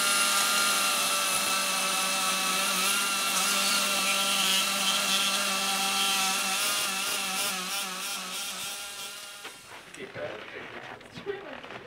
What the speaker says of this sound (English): saws through the bone to break it.